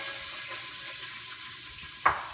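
Diced onions sautéing in oil in a pot for chili: a soft, steady sizzle with a brief sharp clink near the end, no talking.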